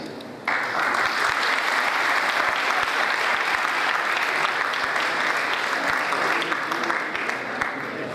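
A large crowd at a medical college convocation ceremony breaks into sustained applause, a sudden onset of dense clapping that stays loud and steady for about eight seconds, with a few sharper individual claps standing out.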